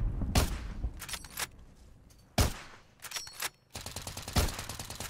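Video game gunfire from a sniper rifle in a Call of Duty Caldera match: a few sharp, loud single shots spaced apart, each with a short decay, followed by a denser burst of rapid fire near the end.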